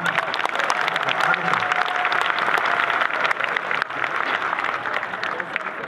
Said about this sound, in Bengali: এবার জোরে তালি হয়ে যাবে